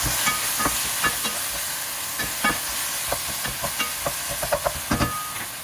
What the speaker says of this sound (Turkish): İçerisine zar şeklinde hazırladığımız patateslerimizi ilave ettik. Şöyle 2-3 tur çevirelim,